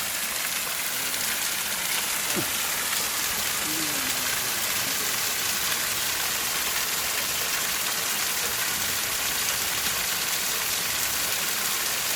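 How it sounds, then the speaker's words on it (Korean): Steady, dense rush of water pouring down a man-made waterfall on a hilltop park in Naju, South Korea, a constant hiss with no breaks and no voices. "산 정상에 자, 아, 인공 폭포가 있습니다"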